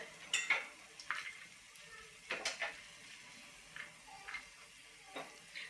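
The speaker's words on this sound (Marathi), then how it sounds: "काजू आणि बदाम आपल्याला तुपावरती फ्राय करून घ्यायचे आहेत" Cashews and almonds fry in melted ghee in a pan, giving a soft sizzle under several light scrapes and stirring clinks spread across the clip.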